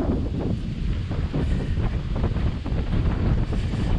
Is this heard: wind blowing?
yes